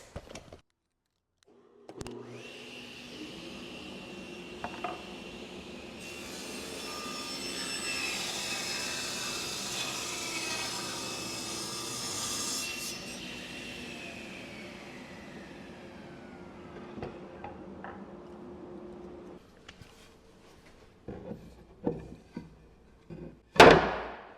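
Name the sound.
saw rip-cutting wood board for garden planter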